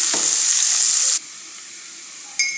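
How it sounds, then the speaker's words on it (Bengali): Chopped onions frying in hot oil, a loud steady sizzle with stirring that cuts off abruptly partway through. A quiet hiss lingers before the sizzle briefly flares again. "তেলটাতে আমি পেঁয়াজ কুচি দিয়ে দিচ্ছি। পেঁয়াজটাও ভালোভাবে ভেজে নিতে হবে।"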